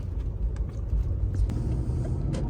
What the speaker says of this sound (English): Oh, a lot of cars coming back this way.